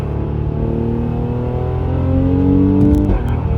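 A Mercedes-Benz C43 AMG on a driving-academy race track revs loud and close from inside the cabin. Its engine note climbs steadily through the gear with a smooth droning pull.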